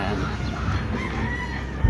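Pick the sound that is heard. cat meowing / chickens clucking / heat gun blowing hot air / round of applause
chickens clucking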